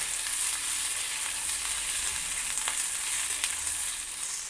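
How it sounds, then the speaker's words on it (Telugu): Onion pieces fry in hot oil with a continuous bright sizzle, close and steady, with a faint clink partway through and no voices. "ఉల్లిపాయ ముక్కలు కూడా వేసి వేయించుకోవాలి 1 నిమిషము"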